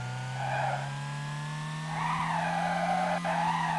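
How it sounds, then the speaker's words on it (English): A car drifts in the racing video game Little Laps, with a steady engine hum under two drawn-out tire skids that squeal and wobble in pitch, the second longer than the first, and no speech. "That's a huge drift."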